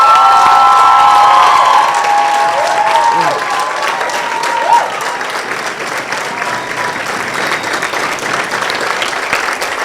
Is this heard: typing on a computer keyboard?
no